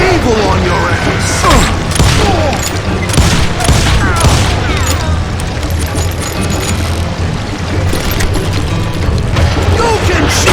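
Rapid gunfire in the Western shooter game Call of Juarez Gunslinger, loud dense volleys and booms crowding together with mechanical clatter, under shouted game dialogue.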